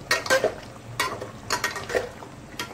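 Masala frying for chicken biryani, a soft sizzle broken by repeated scraping strokes of a spoon against the pot, close and uneven in rhythm, with no talking.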